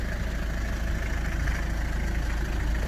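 A 1994 Toyota Townace 4x4 van's 2.2 liter turbo diesel engine idles nearby, a steady low rumble with a faint rhythmic diesel clatter, no voices.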